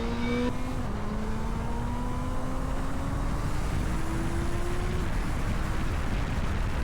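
A superbike motorcycle accelerates hard, its engine pitch climbing steadily through gear changes under heavy, constant wind-like roar at moderate loudness.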